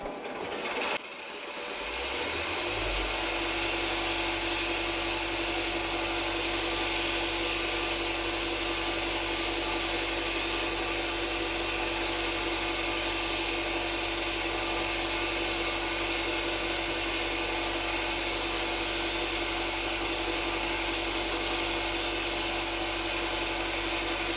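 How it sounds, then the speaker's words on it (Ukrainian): An angle grinder running on a Vitol 500 W portable battery station starts after a brief click, then gives a steady, loud, high-pitched whine that stays constant and close for the rest, with no voices. "вмикаю гріндера і все решта"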